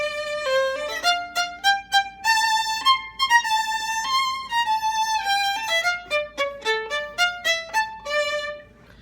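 String quartet plays a happy, lively Russian theme from a final movement, with quick bowed melodic phrases and crisp articulated notes, bright and close throughout.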